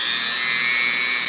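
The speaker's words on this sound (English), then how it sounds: "A Dremel just creates so much friction that it just heats it up so fast" Dremel rotary tool grinding into the rubber sole of a Timberland boot, a steady high-pitched whine held close and loud for the whole moment with no voices.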